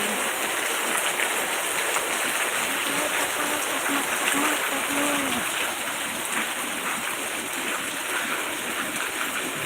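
Heavy rain pours in a dense, constant hiss, with a faint voice briefly audible beneath the downpour.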